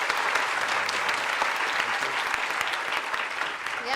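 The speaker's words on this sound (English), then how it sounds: "Can we give them a massive round of applause?" Sustained audience applause for a presenting team at an Edinburgh Science Festival talk, an even, dense clatter of many hands clapping at steady volume throughout.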